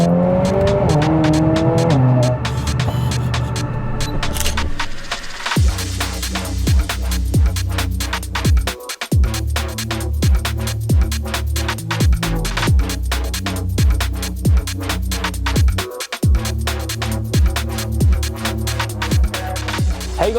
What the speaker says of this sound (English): It just snaps into the gears now.